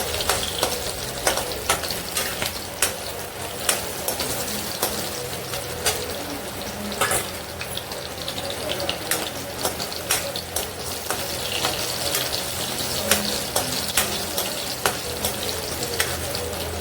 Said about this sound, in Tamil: ஆரஞ்சு தோலையும் அப்படியே போட்டுக்கிறேன்